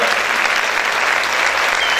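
A church congregation claps loudly and continuously for the Lord, a dense, even wash of applause filling the room with no breaks.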